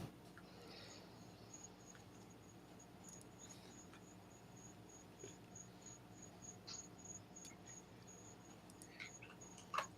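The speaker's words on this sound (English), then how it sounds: "Here, crickets." Crickets chirp steadily in a quiet background, a faint continuous high trill with occasional soft clicks and rustles.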